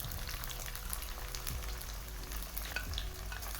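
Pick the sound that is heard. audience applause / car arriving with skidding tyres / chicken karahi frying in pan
chicken karahi frying in pan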